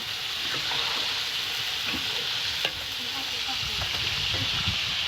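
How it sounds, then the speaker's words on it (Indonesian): Shrimp fry in a pan over a wood-fired stove in a village kitchen, giving a steady, loud, close sizzle throughout with occasional stirring clinks and a faint voice in the background. "Ini goreng udang."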